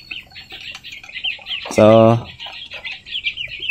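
A chicken lets out one loud close squawk amid soft continuous peeping from newly hatched chicks, alongside a hen and a Shamo rooster; someone speaks briefly.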